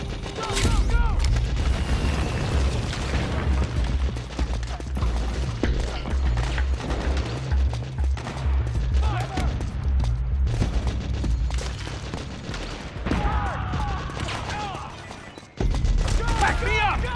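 Gunfire in the Metal Gear video game rattles in dense bursts under loud, continuous shouting and battle noise, with heavy booms throughout.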